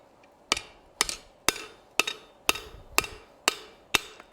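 Hot steel for a decorative hacksaw is struck on an anvil, eight sharp, ringing hammer blows landing at an even half-second rhythm, close and clear, each one decaying quickly into near silence.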